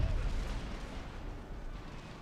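Cannon fire in Empire: Total War during a battle near Paris, a heavy booming blast up front that fades into a low, rolling rumble, loud with no talking.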